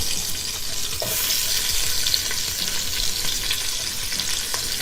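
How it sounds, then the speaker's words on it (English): Onion frying in rendered beef fat on a Blackstone griddle, a steady, close sizzle with light crackle and occasional scraping, no voices. "Got the oil, a lot of fat in there from the beef. So first thing that goes in, onion."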